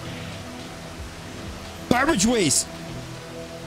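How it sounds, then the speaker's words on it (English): Heavy rain in the video game Rain World gives a steady, dense hiss throughout, with a person speaking over it partway through. "It's not supposed to be raining like this, man."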